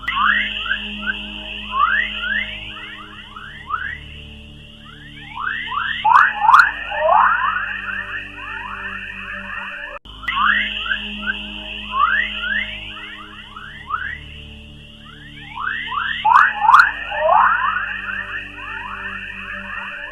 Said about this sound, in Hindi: जितनी ही सुंदर हमारी पृथ्वी है, उतनी ही सुंदर इसकी आवाज।